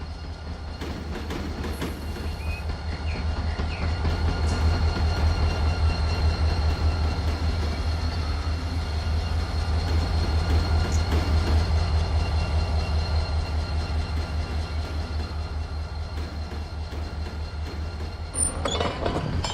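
A locomotive rumbles steadily in the Run 8 train simulator, with low engine drone and rhythmic rail clatter throughout, continuous and fairly loud, no talk.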